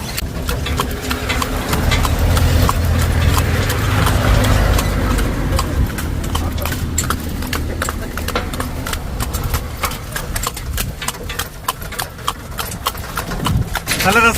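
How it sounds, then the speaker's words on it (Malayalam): Steady clip-clop of a horse's hooves pulling a cart, close and rhythmic, with people talking over it and a low engine hum at times. "ഇങ്ങനെ ഒരു കുതിര വണ്ടിയിലെ ഒരു സവാരി"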